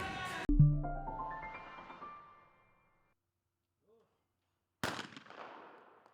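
Two sharp shotgun blasts a few seconds apart at a youth trap shooting competition, the first ringing out with a long fading echo, the second cracking near the end.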